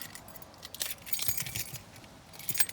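A bunch of keys jangles in bursts of bright metallic clinking and rattling close to the listener, with short pauses between the shakes and no talking.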